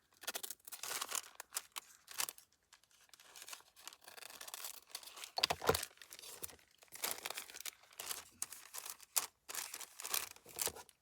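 Paper being cut with scissors and handled for homemade envelopes: intermittent crinkling, snipping and rustling bursts, close and fairly quiet, with brief pauses between handling sounds.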